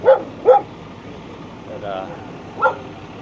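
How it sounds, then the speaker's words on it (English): Excited dog barking outdoors during a Kansas City morning live news shot, three sharp close barks in quick succession followed by a softer whine, loud and clear over quiet background. "This doggy here is really having a good time."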